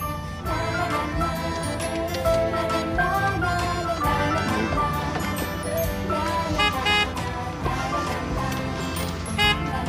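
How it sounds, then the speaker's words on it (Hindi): Car horn toots sound in short repeated bursts inside a car, mixed with a busy tonal background, fairly loud and close. "अभी तो आकर बैठे हैं और तुमने हॉर्न भी बजाना शुरू कर दिया"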